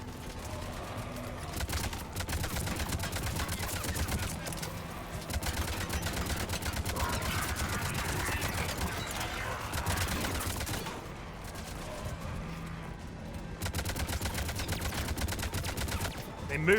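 Gunfire during cover shooting in Mass Effect Legendary Edition, dense rapid bursts of automatic fire crackling almost continuously, with a voice talking under and between the shots.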